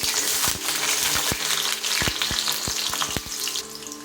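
Onion and garlic frying in a little oil in a pan, a steady bright sizzle broken by repeated sharp ticks and pops, close and alone.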